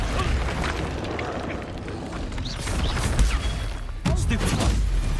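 Repeated magical blasts in Hogwarts Legacy from the Expulso spell, bursting booms and crackling impacts amid a busy battle, with a strong punch near the end and voices faintly mixed under the chaos.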